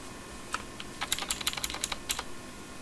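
A computer keyboard clicks in a quick burst of a dozen or so crisp keystrokes at close range, including a press of the enter key, against a quiet room background.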